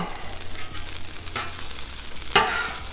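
A spatula chops and scrapes through cold pork fried rice on a hot Blackstone griddle over a continuous sizzle, with a few distinct metallic scrapes and one sharp clack near the end.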